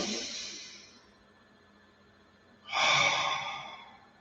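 Two deep, audible breaths during an oracle card reading, a long airy exhale fading out, then after a pause a strong inhale-exhale rush of breath close to the microphone.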